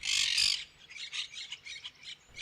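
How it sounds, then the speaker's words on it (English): Monk parakeets in palm trees in Rome squawk loudly at first, followed by a run of harsh, chattering calls in quick bursts, fairly close. "Monk parakeets."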